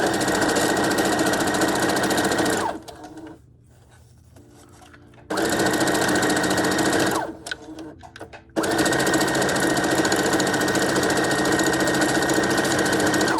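A sewing machine stitches a closure wig in loud, steady runs, stops for a few seconds, starts briefly again, pauses, then runs on continuously until the bobbin thread runs out.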